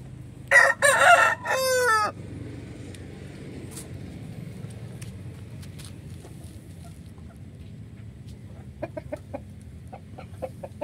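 A rooster among free-range country chickens in a poultry shed gives a loud crow near the start, then background clucks and faint rustling follow with a few brief chirpy calls toward the end.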